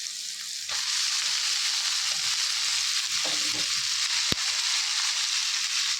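Drumstick leaves sizzling in a pan with tomato, onion and coconut for a Tulu-style sukka, a steady close hiss of frying with the scrape of stirring and one sharp clack of the spoon against the pan.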